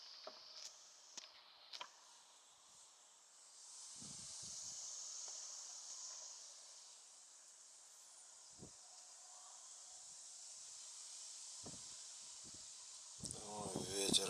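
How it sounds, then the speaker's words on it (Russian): Wind gusting across a city balcony in Kharkiv at sunrise, a steady airy hiss that swells and fades in long waves, with brief rustles and knocks near the microphone. "И даже на балкону так задувает."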